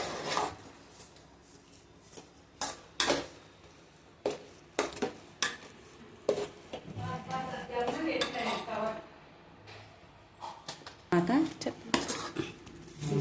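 Rice flour batter being stirred in a pot on a stove, with a spoon scraping and clinking against the metal in short irregular bursts, close by, with some talk at times over the stirring.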